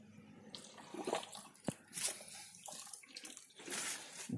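Water splashing and running into a borehole being drilled for a DIY heat pump ground probe, added as drilling lubricant; uneven gushing bursts at moderate distance with a sharp clank partway through.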